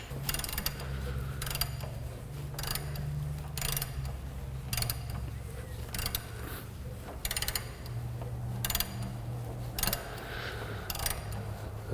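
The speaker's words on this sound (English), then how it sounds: "I've got a long extension, and I've got my ratchet." Ratchet with a long extension turning the crank bolt of a Nissan 2.5L engine during a timing chain replacement, a close series of sharp metallic clicking bursts repeating roughly every second over a low mechanical hum.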